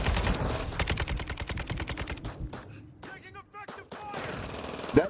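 Rapid automatic gunfire rattles in a video game, a dense burst for about two seconds, then scattered single shots and a few echoing cracks before the firing picks up again.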